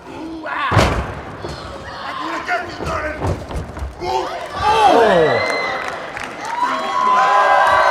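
Hard slapping thuds land in a wrestling match as one wrestler delivers knife-edge chops to his opponent, each strike cracking out over a cheering crowd while a commentator talks throughout.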